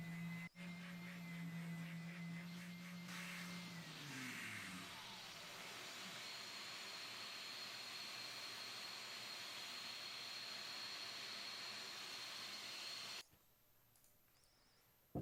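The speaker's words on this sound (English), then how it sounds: "The spindle sander will do a great job of making everything smooth again." A spindle sander sands excess glue off a handmade wooden mug, its motor giving a steady, loud, continuous whirring roar for about thirteen seconds before it cuts out abruptly into quiet.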